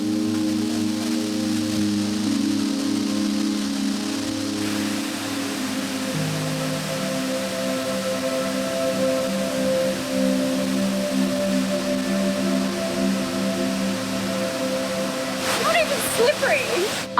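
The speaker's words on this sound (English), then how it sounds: "hearing the beautiful waters of the Mata Jitu waterfall seemed to calm my entire soul at once" Rushing water of the Mata Jitu waterfall makes a steady, full roar throughout, with sustained tonal hums layered over it and a brief higher whine near the end.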